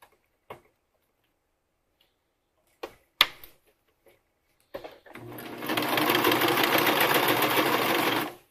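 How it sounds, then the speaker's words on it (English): A cover stitch sewing machine sewing stretch fabric on a bra strap: a few quiet ticks and handling clicks, then a steady, fairly loud mechanical whir of stitching running for several seconds before stopping. "I'm gonna go around on my cover stitch."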